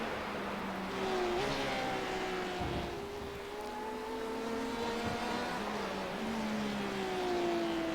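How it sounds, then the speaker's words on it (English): A Porsche and a Corvette C8R race cars in a racing video game, engines droning and shifting pitch as they brake and accelerate through a chicane at Silverstone, steady and fairly loud with no talk. "Porsche driving hard. into the chicane."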